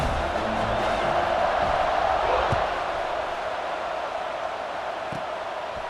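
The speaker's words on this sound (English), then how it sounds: "this crowd is buzzing after that last score" A stadium crowd in EA Sports College Football 26 keeps up a steady, dense roar that fills the whole stretch with an even wash of noise.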